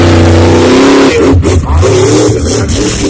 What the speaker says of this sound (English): Out there with your big monster truck back.